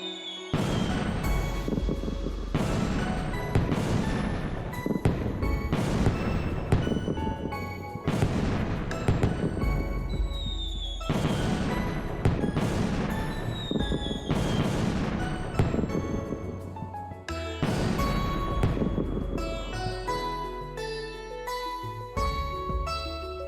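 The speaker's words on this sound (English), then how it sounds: "Oh, fireworks, they're so pretty." Repeated booming bursts of fireworks in the video game Trails in the Sky the 3rd go off in quick succession, some with whistling rises, loud and sustained over a rumbling bed of crackles.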